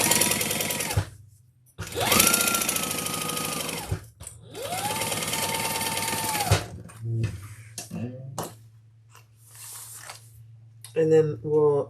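A sewing machine runs in several sustained bursts, stitching the bottom seam of a leather crossbody handbag, with short pauses and clicks of handling between runs.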